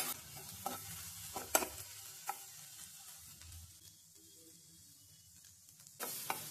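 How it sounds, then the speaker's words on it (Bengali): Sweet corn frying on low heat in a pan gives a soft, faint sizzle, with a few clicking spatula stirs early on, a quieter stretch in the middle and a louder burst of stirring at the end. "সুইটকর্নটা একদম কম আঁচে ভেজে নিতে হবে।"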